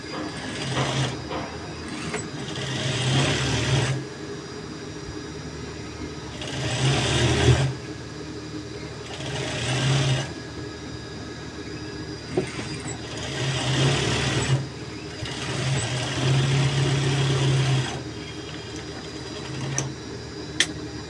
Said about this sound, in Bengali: এখন আমরা হাই দুটি মিলিয়ে এভাবে সেলাই দেব।